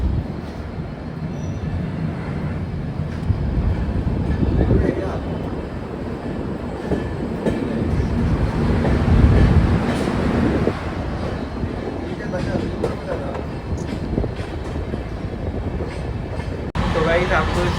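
A train passes through Manmad Junction, a large Central Railway station, with a steady rumble of rolling wagons and wheel clatter that swells and fades around the middle, heard close and fairly loud under station ambience.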